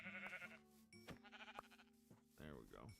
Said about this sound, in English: Man, what's with all these brown sheep?